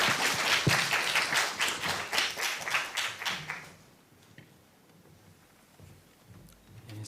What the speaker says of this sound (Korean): 그러니까 박수로 그냥 환영 한번.